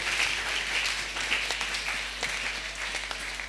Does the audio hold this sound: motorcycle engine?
no